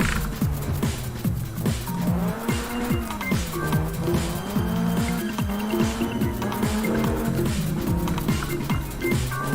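Tires squeal in a racing video game as the car goes into a big oversteer slide, a steady wavering screech over a continuous engine drone played through a Shock 2 steering wheel on PS1/2 or N64.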